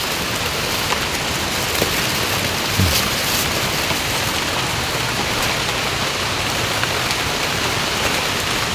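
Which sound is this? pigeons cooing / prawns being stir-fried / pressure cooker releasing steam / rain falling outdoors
rain falling outdoors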